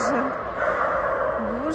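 Dogs yip and bark at a crowded dog show with hounds among the breeds, short excited calls over a constant loud hubbub of people and animals nearby.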